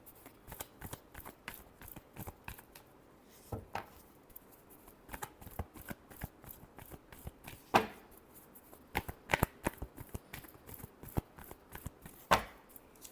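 A deck of tarot cards is shuffled by hand for a reading, a series of soft close riffles and crisp slaps at an uneven rhythm, fairly quiet throughout.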